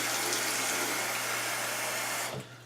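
Hot water pours steadily into a shaving mug, a continuous bright splashing rush that stays loud and close, then cuts off abruptly near the end with no talk over it.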